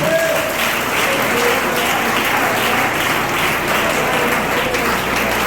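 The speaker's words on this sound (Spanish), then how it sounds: "Denle un aplauso al Señor." Church congregation applauding steadily and loudly throughout, a dense wash of clapping with a few voices mixed in.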